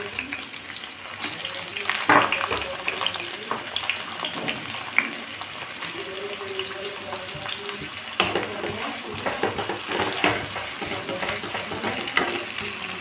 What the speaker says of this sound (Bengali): तेलेर मध्य आमार जिरे जिरे करे कुचिए राखा पेঁয়াজগুলো प्रथमे भेजे नेब।